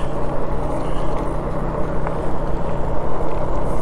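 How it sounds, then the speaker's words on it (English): A truck approaches from behind on a rural road, with a steady, loud engine rumble and rushing wind noise, heard continuously from close by. "I got a truck coming behind me"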